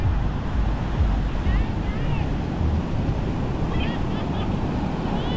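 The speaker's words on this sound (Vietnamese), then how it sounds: "Con sóng chiều nay cũng khá dữ dội" Rough sea waves breaking on Hoa Duan beach near Hue, a steady loud roar of surf mixed with wind buffeting the microphone, with faint distant voices and high chirps above.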